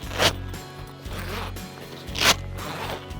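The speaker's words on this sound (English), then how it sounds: "And then just start unzipping." A zipper on the cover of a soft-floor camper trailer tent is pulled open in several rasping strokes, two sharper zips standing out, fairly quiet and close with no talking.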